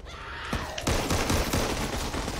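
Rapid SMG gunfire in the Back 4 Blood video game: dense, loud, sustained bursts of shots fill most of the moment, crackling continuously after a brief opening.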